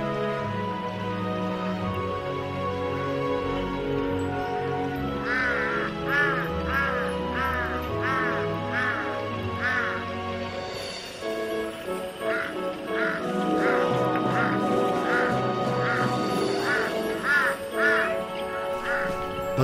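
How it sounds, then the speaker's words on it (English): Crows croak and caw in repeated harsh bursts in the Khumbu region of the Himalaya, the calls coming in two runs over a dense, steady background. "the croaking, bronchial crows and tinkling yak bells the most"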